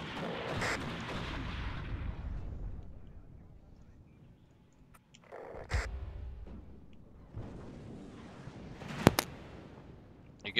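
Heavy artillery barrages in the Cold War strategy game WARNO, with rolling booming impacts and rumbling blasts spread across the scene, loud near bursts around six and nine seconds, and no talk.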